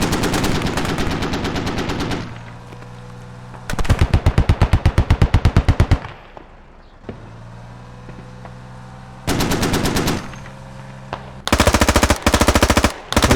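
Long bursts of rapid machine gun fire in the video game Squad, loud and close, separated by brief lulls of engine rumble.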